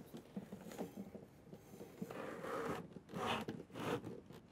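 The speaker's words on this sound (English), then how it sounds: "And then the teeth grab onto this hair. And basically pull it apart." A machine with sharp spiked teeth grabs and pulls apart hair as it is fed in, producing a faint, uneven rasping and tearing with rhythmic scratchy bursts close by and no speech.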